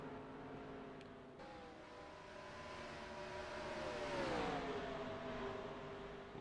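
Race cars on a Texas oval during the OSCC PJ-1 100 hum along the track, with engine tones sweeping downward as a car passes by at a moderate distance, the roar steady and building slightly before easing off.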